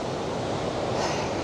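Jog Falls in Shimoga, Karnataka, running low on water, gives a steady broadband rush of falling water that holds even and continuous, with no voices over it.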